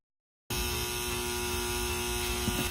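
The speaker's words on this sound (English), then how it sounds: "Looks like it's still making the humming sound" Steady electrical hum with a faint buzz from an opened Rain Bird sprinkler controller, starting abruptly after brief silence and holding constant, close and fairly quiet.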